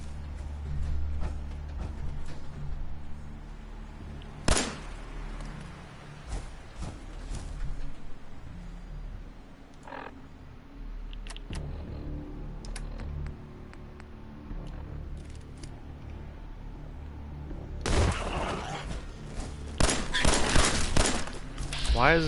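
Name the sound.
gunfire in the video game Fallout 4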